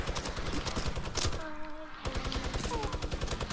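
Rapid gunfire in a Fortnite match, a dense stream of loud, close shots that pauses briefly midway before the rapid bursts resume, with no talk over it.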